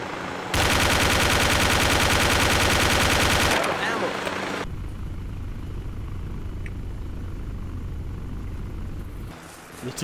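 Rapid automatic gunfire in the military shooter game Arma 2 rattles in a dense, sustained burst for about three seconds, then gives way to a low rumbling engine-like drone.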